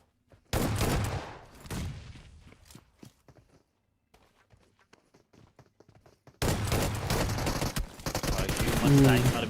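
Gunfire in a battle royale video game esports grand final, bursts of rapid shots and clattering hits in two loud clusters separated by a quieter stretch of faint footsteps and scattered sounds.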